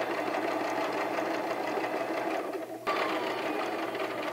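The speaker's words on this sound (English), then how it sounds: "And I end it here with a little back stitch." A sewing machine stitches a garden apron up close, finishing with a short back stitch: a steady, fast mechanical whir that dips briefly near the end before running on.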